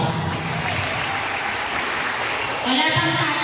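Applause from a crowd at a graduation practice rehearsal, a steady wash of many hands clapping that holds evenly, then swells slightly louder near the end as someone begins speaking over it.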